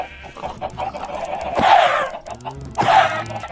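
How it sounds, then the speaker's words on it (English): Chickens cluck in the Minecraft video game, with two short, close bursts of squawking clucks over a quiet background. "Why do I need so many chickens?"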